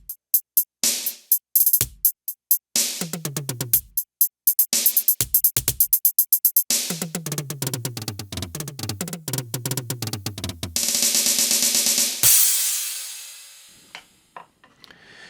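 Ludwig Total Percussion Pad electronic drum kit played alone with sharp, rhythmic pad hits: sparse strikes at first, then dense fills and rolls building into a sustained cymbal-like wash that fades at the end.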